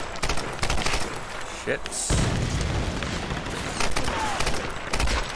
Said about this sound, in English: shooting out. Guns blazing.